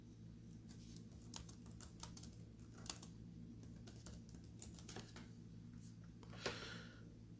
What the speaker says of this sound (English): I'm gonna type in, is FanDuel public?